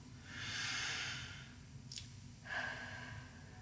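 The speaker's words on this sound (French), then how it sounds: "prenons une profonde respiration." A slow, deep breath drawn in and let out, soft and close with no talking, followed by a short second exhale.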